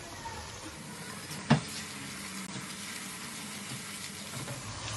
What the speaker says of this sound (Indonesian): Ini bawangnya udah nggak bau mentah, sekarang kita masukin cabenya